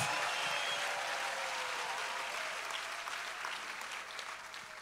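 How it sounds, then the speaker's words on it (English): Church congregation clapping for Jesus during a worship gathering, a full, sustained round of applause that slowly eases in loudness, heard from some distance with no clear speech on top. "clap for Jesus."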